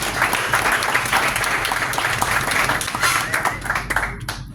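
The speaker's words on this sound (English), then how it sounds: "another round of applause for everyone that is here present" Audience at a London tech meetup clapping in a dense, steady round of applause with no talk over it, tapering slightly at the very end.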